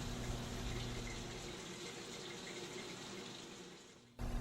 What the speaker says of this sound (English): open the drain, allowing the shortening to fill the unit